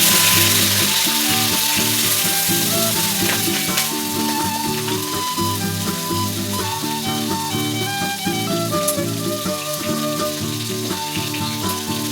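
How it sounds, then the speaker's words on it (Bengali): Spice tempering sizzles into boiled masoor dal on a gas stove, a steady loud crackle and hiss lasting throughout, with a strong tonal hum running underneath and no speech. "ডাল সেদ্ধ হয়ে গেছে তো ডালে এখন দিয়ে দিচ্ছি ফোড়ন"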